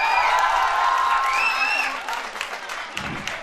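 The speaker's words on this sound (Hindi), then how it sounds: "आप तालियां बजाकर हमारे हौसलों को हवा देते रहें" Audience at a college cultural fest applauding and cheering, a loud dense burst of clapping with whoops that gradually thins and fades toward the end.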